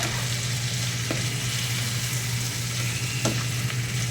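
Shrimp with garlic fry in a pan with a steady, close sizzle throughout, broken by a couple of brief clinks as the food is stirred; nobody speaks.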